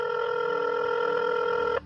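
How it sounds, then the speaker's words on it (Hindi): A telephone rings with a single sustained electronic tone burst that cuts off abruptly near the end, clear and alone with no voices. "2-3 रिंग के बाद शिवाय ने कॉल पिक कर लिया"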